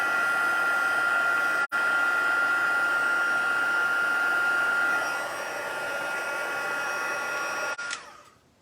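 A heat gun blows a continuous, even rush of hot air for heat embossing a Christmas card, droning steadily with one brief dropout before easing off and stopping near the end.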